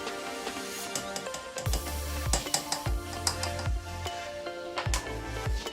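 Cornstarch being folded into pavlova meringue in a bowl, a run of soft scraping strokes with faint knocks of the utensil against the bowl, steady and close.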